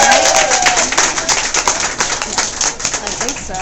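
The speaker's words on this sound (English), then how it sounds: "Please give her a big round of applause." A round of applause at a breast cancer charity fundraiser, with dense, loud clapping from a crowd that carries on throughout, with voices mixed in.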